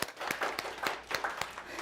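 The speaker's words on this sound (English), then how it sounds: "Let's give them a round of applause" An audience at a Sunday community service claps for performers, brisk individual claps audible in a modest, fairly close round of applause that rises and dips over a couple of seconds.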